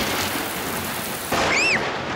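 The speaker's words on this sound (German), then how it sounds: "der Donner donnert aber laut" Thunderstorm with steady rain hissing throughout and a brief swell of thunder near the end, alongside a short high whistling tone.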